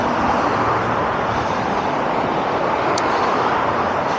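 Steady, continuous roar of passing street traffic in Washington, DC, a broad wash of car and engine noise that fills the whole clip at an even level, with one brief high chirp partway through.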